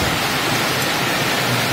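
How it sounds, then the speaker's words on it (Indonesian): Steady rain falls outdoors during a bird-hunting trip in the changing season, a dense even hiss filling the whole moment without pause, loud and close with no voices. "Cuacanya hujan, kita tidak bisa lanjut hunting guys."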